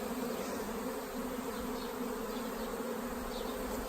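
A swarm of agitated honeybees buzzes around a hive in a dense, steady drone, loud and close throughout with no talking.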